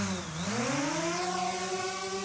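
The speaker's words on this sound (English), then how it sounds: "That's the sound of a drone" A drone hovers with a steady buzzing whine whose pitch rises and sweeps as it manoeuvres, sustained and fairly close with no voices.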